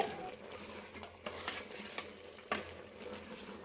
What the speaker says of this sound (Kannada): ನೀಟಾಗಿ ಆ ಖಾರ ಮತ್ತು ಸಾಲ್ಟು ಎರಡು ಚಿಕನ್ಗೆ ಹಿಡಿಬೇಕು, ಅಲ್ಲಿವರೆಗೂ ಫ್ರೈ ಮಾಡಿ.